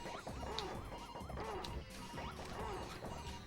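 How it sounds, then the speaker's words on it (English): A creature in a PS1 3D platformer video game lets out warbling, cow-like moos that repeat over a dense, crashing game soundtrack. The cries are faint and low in the mix. "Why does that sound like a cow?"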